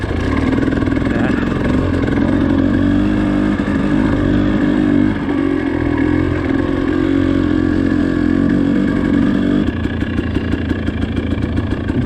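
A dirt bike engine runs out in the desert. It holds a steady, loud, close drone, then shifts to a choppier idle near the end, with no talk over it.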